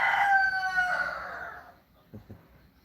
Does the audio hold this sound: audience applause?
no